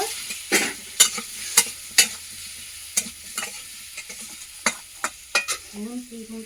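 Ingredients sautéing in a pan for a prawn dish, with sharp intermittent scrapes and knocks of a spatula against the pan over a faint low sizzle, about a dozen strokes at an irregular pace.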